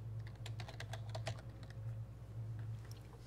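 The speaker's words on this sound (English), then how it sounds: "So you literally just type it in." Steady keyboard typing while Java code is entered on a computer, a run of quick, irregular key clicks close to the microphone over a constant low electrical hum.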